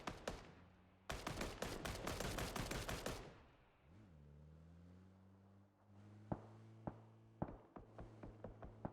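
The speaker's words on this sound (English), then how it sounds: "Shots going down from Myth." Bursts of automatic gunfire crackle in PUBG, a dense volley of rapid shots for about two seconds, then sparse single cracks ringing out over a low droning hum.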